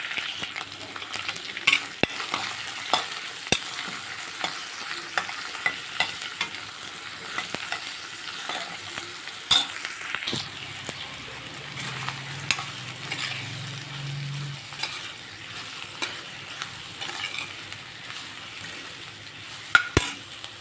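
About 400 grams of ridge gourd pieces frying with turmeric, a low continuous sizzle broken by scattered sharp clicks and scrapes of a spoon stirring in the pan, close and moderately quiet.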